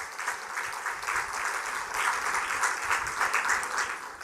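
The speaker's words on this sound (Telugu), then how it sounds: "సరే చప్పట్లు కొట్టి దేవుని స్తుతిద్దాం." A church congregation claps together in praise during a sermon, a steady, dense wash of many hands sustained evenly throughout without a break.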